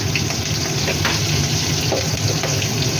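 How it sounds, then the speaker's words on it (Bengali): Nigella seeds, green chilli and chilli powder hit hot oil for a fish curry, giving a dense, continuous, close sizzle with no talk. "এই যে কালো জিরে দিলাম হাফ মতন কাঁচা লঙ্কা দিলাম লঙ্কার গুঁড়ো দিলাম এক চামচ"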